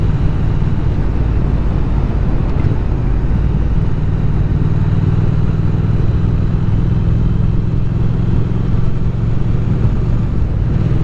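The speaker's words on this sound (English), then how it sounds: "this motorcycle has the silky smooth gear change I was hoping it would have when I bought it" A motorcycle rides at steady speed, its engine and wind roar loud and constant close to the rider; no distinct gear shift stands out.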